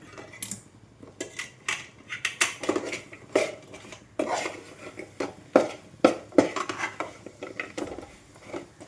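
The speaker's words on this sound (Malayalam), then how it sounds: "ഇളക്കി കൊടുക്കുക" Jaggery and rice flour stirred in a pan with a metal spoon, a steady run of quick scraping clinks and taps against the pan at close range, with no voices.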